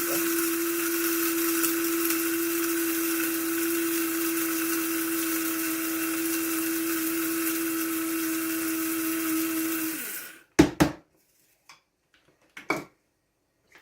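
A blender grinds curry ingredients, thyme leaves among them, in a steady, loud whir for about ten seconds, then stops, followed by a few brief knocks as the lid and jar are handled.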